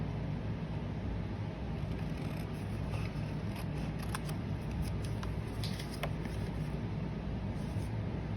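Scissors snip through a paper tag for a junk journal, a series of small, sharp cuts spread across a steady background hiss, fairly faint and close, with no voices.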